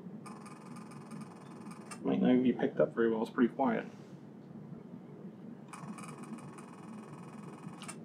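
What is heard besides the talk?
camera shutter firing in burst mode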